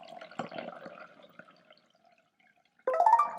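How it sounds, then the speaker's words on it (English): Red-coloured water trickles and splashes into a glass in soft, uneven pours, goes quiet for a moment, then a fuller, brighter stream runs in near the mic with a rising pitch as the glass fills. "What I'm going to do now is pour in some red colored water"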